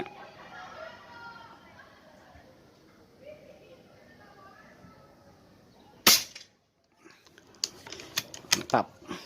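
An FX Impact MkII air rifle fires a single sharp, close crack during a target shooting session, followed by a few lighter clicks of handling; someone talks quietly beforehand.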